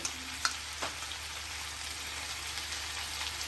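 Chicken roasting in a pan for a low-masala chicken roast, turned over as it cooks: a steady faint sizzle with a couple of light clicks of a utensil against the pan, no talking.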